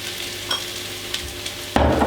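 Onions and mushrooms sizzle in a pan as they are stirred, a soft steady fry with a few light scrapes, then a louder burst of sizzling as more food goes in near the end.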